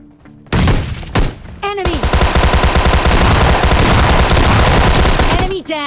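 Rapid automatic gunfire bursts and heavy blasts, including a grenade, in a mobile shooter game, loud and dense for several seconds with a brief pause near the start and no talk.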